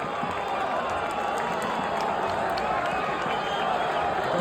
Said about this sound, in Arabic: جماهير اوبيدو محيحه